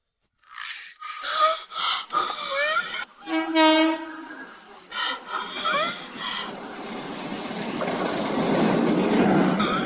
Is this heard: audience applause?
no